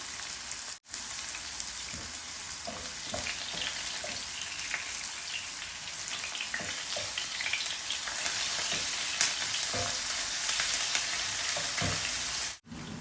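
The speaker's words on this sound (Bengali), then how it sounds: "আমার গার্লিক অনিয়ন একটু গোল্ড কালার রয়ে গেছে" Chopped onion and garlic frying golden in a pan for a village-style prawn dish, a dense continuous sizzle and crackle heard up close with scattered spatters and stirring clicks throughout, no voices.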